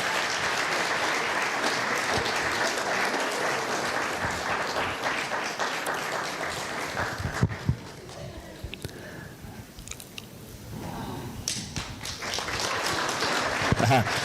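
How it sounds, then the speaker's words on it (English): Audience applause at the FilmAid Film Festival's 18th edition, dense clapping for about seven seconds, then a quieter stretch with scattered claps and murmuring before the clapping swells again, with voices talking over it. "Come on, let's just get the claps going."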